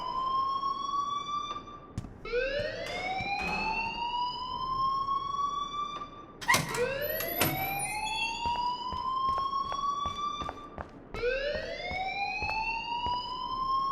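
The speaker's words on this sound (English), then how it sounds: "please turn off that alarm since that's your job" A fire alarm in the video game Life Is Strange wails in loud, repeating rising sweeps with sharp electronic beeps cutting in, steady and close with no talk over it.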